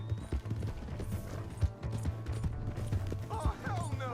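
Horse hooves in Red Dead Redemption 2, a rapid irregular clip-clop of a galloping horse with creaking tack, fairly close and loud, while voices talk over it and someone shouts near the end.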